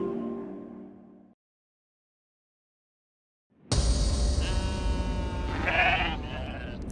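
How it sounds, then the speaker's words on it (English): Sheep bleat at night, loud and close, with several overlapping wavering cries after a brief voice and a stretch of silence. "Suddenly hearing the sound of the sheep bleating out, disturbing the silence of the night, Thomas loaded his rifle and ran to check."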